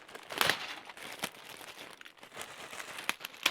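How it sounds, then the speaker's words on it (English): A plastic bag of vintage LEGO parts is torn and crinkled open up close, with a sharp rip early on followed by scattered rustling and crackling handling noises. "I'm going to rip this bag."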